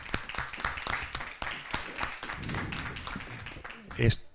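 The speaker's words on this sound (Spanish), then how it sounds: "Bueno, Enrique, yo creo que te dejan un aplauso fuerte, ¿no?" Applause from the audience at a seminar on entrepreneurship law, a quiet patter of clapping that swells slightly, with voices and a brief laugh mixed in toward the end.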